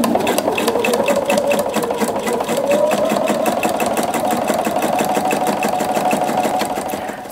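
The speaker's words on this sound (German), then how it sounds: "Eventuell einmal drüber bügeln und knappkantig auf dem Stoff abnähen." A sewing machine edge-stitches fabric close beside a zipper on a pencil case, running steadily with a rapid, even needle rhythm, loud and near, with no talking.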